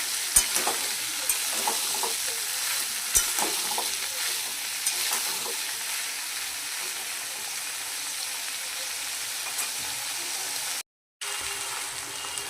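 Potatoes, peas and chopped tomato are stir-fried in a pan: a steady sizzle with intermittent scraping stirs and light clicks, briefly cutting out near the end.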